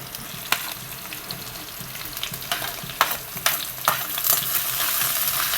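Chopped onions frying in a pan with dried red chillies for a Coorg-style curry: a loud, continuous close sizzle with occasional spatula scrapes and taps, and no voices.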